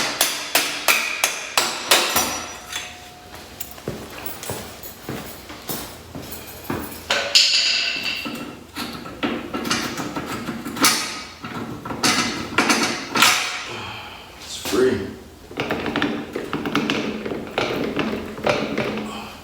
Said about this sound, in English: all I have to do is just knock out this bottom bolt